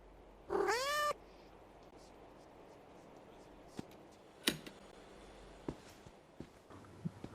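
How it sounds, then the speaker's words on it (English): A cat in the video game A.L.I.A gives a single loud, drawn-out meow near the start, followed by scattered soft footsteps and clicks over a quiet ambient hum. "there's a cat"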